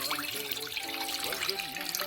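Water is poured from a cup into a cooking pot in a home kitchen, a short splashing, trickling pour heard close up with a voice speaking over it.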